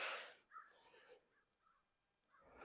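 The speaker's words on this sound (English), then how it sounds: "Hear them crows over there?" Distant crows cawing in a few scattered calls outdoors near the end of the day, faint against a quiet background.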